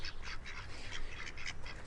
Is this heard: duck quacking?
yes